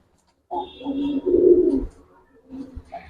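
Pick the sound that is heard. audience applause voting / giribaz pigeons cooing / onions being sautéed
giribaz pigeons cooing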